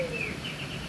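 Birds calling at Newquay Zoo, a few brief chirps and a whistled note rising over steady outdoor background noise, moderately near and fairly faint.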